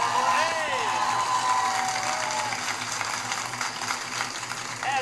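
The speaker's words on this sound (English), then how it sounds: "Nice round of applause for Oliver Ames!" A high school quiz show audience applauds a competing team with dense, steady clapping that tapers slightly, while a few tonal sweeps sound over it near the start.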